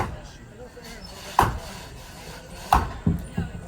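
Axe blows biting into massive 18-inch tulip poplar logs during a butcher block relay race, three sharp thuds spaced over a few seconds amid crowd noise and commentary.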